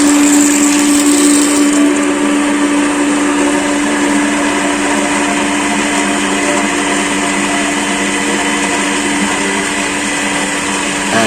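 Jet water pump running steadily while being primed from a municipal water supply line, a loud constant motor whine and hum with a steady tonal drone throughout, no talk heard.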